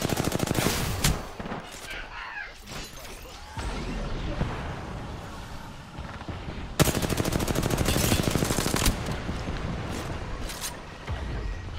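Rapid automatic gunfire in the video game Apex Legends, with loud bursts of shots in quick succession, a pause and then a long dense volley, plus scattered single impacts.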